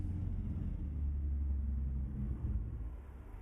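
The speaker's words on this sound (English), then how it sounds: "Sometimes the engines are a little bit louder than the others." Truck engine in American Truck Simulator giving a steady, loud low rumble that holds throughout with a slight dip near the end, no talking over it.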